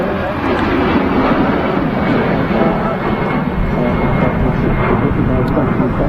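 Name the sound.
British Airways Embraer jet at Manchester Airport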